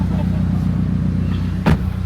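Steady low engine hum and road rumble from inside a 30-year-old Toyota car while riding, with a brief louder thump or rustle near the end; people talk over it.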